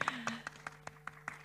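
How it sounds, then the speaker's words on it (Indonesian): A few audience members at an Indonesian investment seminar on mutual funds clap in a short, sparse burst of separate claps, fairly quiet, over a faint hum with a brief voice at the start. "tepuk tangan dulu dong"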